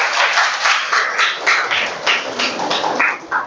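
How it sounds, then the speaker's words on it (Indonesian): A classroom of students claps together in a loud, bright burst of applause that swells and eases in waves, close-up and without talk. "Tepuk tangan dulu untuk kita semua."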